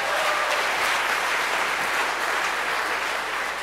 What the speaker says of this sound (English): just give me a big round of applause